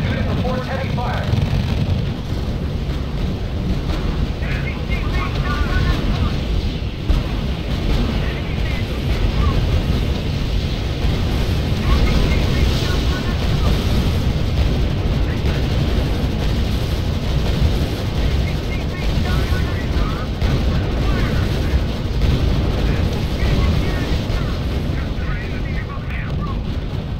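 Battle in the R.U.S.E campaign, a loud, continuous roar of gunfire and rumbling explosions filling the whole stretch, with a radio-style voice speaking over the din at times.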